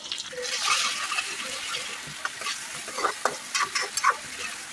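Onion with ginger garlic paste frying in hot oil, a steady sizzle with bursts of crackling and stirring scrapes, fairly close and loud, with no voices.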